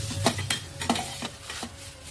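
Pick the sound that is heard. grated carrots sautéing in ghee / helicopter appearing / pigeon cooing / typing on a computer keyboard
grated carrots sautéing in ghee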